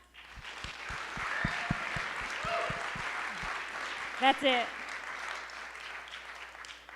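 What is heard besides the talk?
louder audience applause at ceremony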